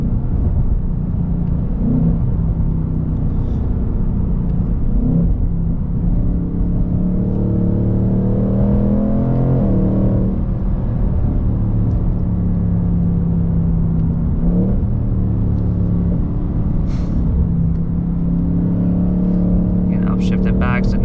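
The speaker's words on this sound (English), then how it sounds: "now we're gonna downshift so you can pay attention to the RPMs and the speed" A 2024 Ford Mustang engine drones steadily as it downshifts through paddle-shifted gears, with the revs climbing and falling in short swells over a continuous close rumble, and no talking.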